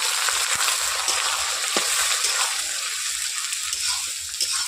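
Onions hit a pan of hot oil and caramelized sugar for a chicken curry, giving a loud, steady sizzle with a few scraping stirs and no talk.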